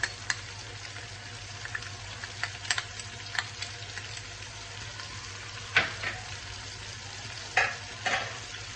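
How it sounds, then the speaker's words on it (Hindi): Ginger garlic paste sizzles and fries in a hot pan with steady crackling, broken by a few sharp scrapes and taps of a stirring spoon. "अदरक लहसुन को थोड़ा भूनेंगे तो इसकी जो स्मेल है वो ख़त्म हो जाए।"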